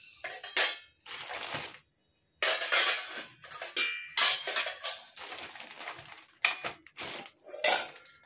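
Metal puja dishes and bowls clank and clatter up close as they are handled, in repeated bursts of ringing knocks broken by one short silent gap.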